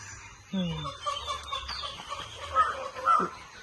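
Chickens cluck nearby in short, scattered bursts, with a few higher squawks against a quiet outdoor background.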